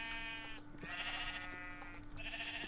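Sheep on a video game sheep farm bleat in two drawn-out calls, fairly close, over a faint steady tone.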